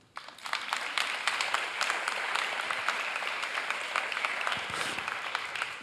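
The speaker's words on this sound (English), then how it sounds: "Maybe you'd like an applause to kick off?" A session audience breaks into applause to welcome a panel of speakers, individual claps standing out within a steady, moderately loud round that starts abruptly and continues for several seconds.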